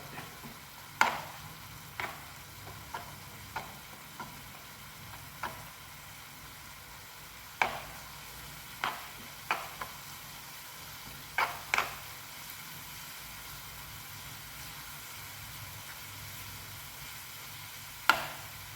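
About two teaspoons of cornflour or maida heating in a pan for pasta, with a faint steady hiss broken by sparse, sharp scraping clicks of a spoon at irregular intervals.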